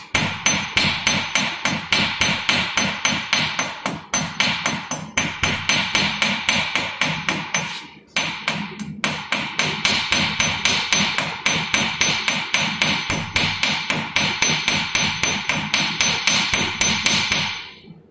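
A hammer strikes hot metal on an anvil in a fast, steady rhythm while forging a hook, loud ringing blows repeating continuously with a couple of brief pauses.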